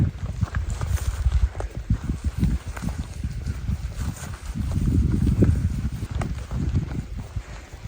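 Cows walking along a cow-path-crossed trail on the Continental Divide Trail, with a steady scuffle of hooves and footsteps close by over wind buffeting the microphone.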